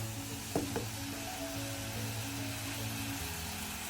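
Melted jaggery and coconut are stirred in a pan, giving a faint, soft sizzle over a low steady hum. A couple of light utensil taps come early, then the sound continues quietly.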